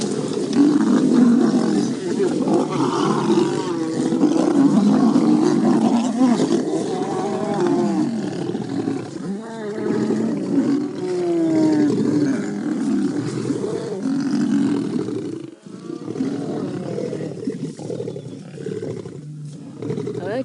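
Male lions of the Nkuhuma Pride fighting on safari, deep snarling roars and growls rolling continuously at close range, with a person talking softly over them.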